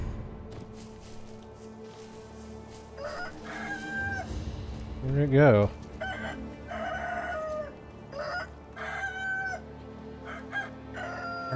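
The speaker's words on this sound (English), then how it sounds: "Oh, the chicken wants to fight?" A chicken in Sekiro: Shadows Die Twice clucks repeatedly and lets out a loud crow midway. A man's brief remark sits over the bird's fairly close calls.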